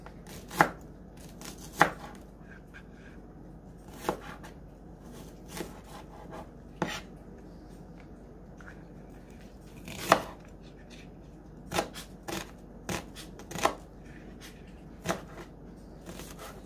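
Tiny shallots chopped with a knife on a board, a run of sharp, separate knife strikes at uneven intervals, close and alone against a quiet room.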